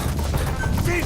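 Covering gunfire in Metal Gear Solid 5, a steady, dense wash of distant shots with no clear gaps between them, kept up at an even level throughout the short stretch.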